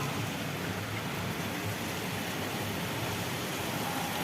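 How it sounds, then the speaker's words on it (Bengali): Steady morning rain falling over an empty street, seen from a balcony, makes a continuous, even hiss with no breaks and no voices. "সকালবেলায় বৃষ্টি শুরু হয়ে গেছে"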